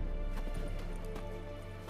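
A horse's hooves clop in The Witcher 3 video game, a few irregular thuds over a steady low game-music drone, with no speech.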